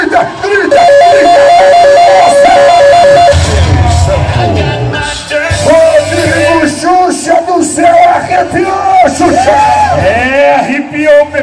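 A rodeo crowd cheers and shouts at a bull riding event in Barbosa, São Paulo, loud and continuous, with an announcer's amplified voice calling over the noise.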